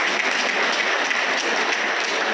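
An audience at a national MSME forum festival in India claps to welcome the chief guest, producing a dense, even roar of applause for a couple of seconds with no clear pauses.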